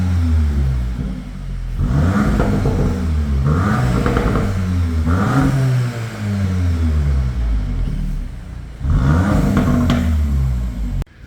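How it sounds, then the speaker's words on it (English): An Audi S3 8Y with an upgraded exhaust revs loudly and repeatedly, rising and falling in pitch, with a rumbling exhaust and rough crackling pops and burbles between the revs. "It's got some pops and bangs and a bit of burbles"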